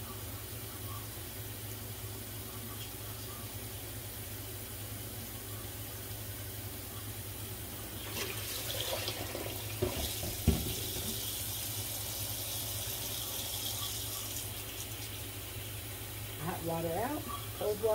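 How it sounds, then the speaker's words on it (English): Cold tap water runs into a pan to cool boiled eggs, a soft steady stream under a constant background hum that grows a little louder and splashier toward the end. "The third 5 minutes is running cold water into the pan."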